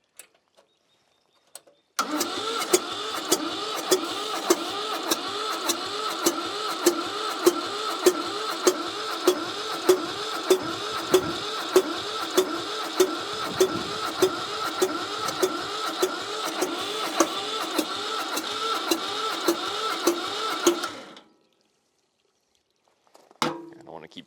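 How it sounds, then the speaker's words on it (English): An old Shibaura tractor's engine cranks on a new starter for about twenty seconds, a steady rhythmic churning whir with regular compression pulses that never catches, then stops abruptly, followed by a brief faint noise. "Cranking on that fresh starter"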